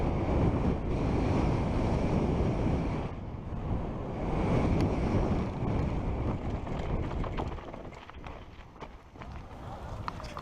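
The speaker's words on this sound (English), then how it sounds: "So it's a little windy" Strong wind buffets the microphone at a mountain bike park, roaring and gusting continuously across the clip with a brief lull, then easing slightly toward the end, with no speech.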